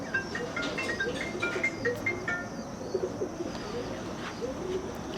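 A pigeon coos in repeated soft, low calls, moderately close, while other small birds chirp faintly in the background and no one speaks.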